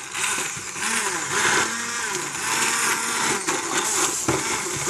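A stick blender, or bar mix, whirs loudly and steadily as it purées a seafood bisque in a pot, the high motor whine wavering slightly as the blade moves through the liquid, with no speech.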